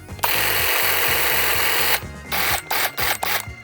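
A Dnipro-M 20V cordless garden trimmer whirs with a steady high-pitched motor drone and rhythmic mechanical chatter, then cuts in and out in short bursts toward the end, close and loud.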